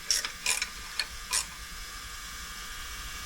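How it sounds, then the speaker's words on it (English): An 8mm ratcheting wrench clicks in short, quiet bursts, four quick ratchet runs snugging a carburetor stud on a 1994 Polaris SLT 750 engine, close up with no talking. "I'm using my ratcheting wrench."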